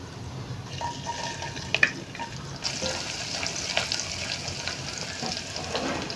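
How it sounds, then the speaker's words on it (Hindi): Chopped ginger, about a teaspoon, fries in a pan over medium-low heat with a steady, close sizzle and occasional stirring scrapes. "यहाँ पे अदरक को हमने तकरीबन 1 मिनट के लिए फ्राई करना है।"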